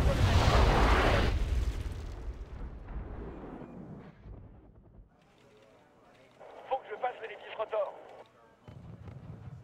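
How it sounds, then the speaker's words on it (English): Artillery shells explode with a heavy, loud boom in the Cold War strategy game Wargame: Red Dragon, the blast rumbling and fading out, followed later by a cluster of distant crackling impacts. "Artillery's coming in on that city."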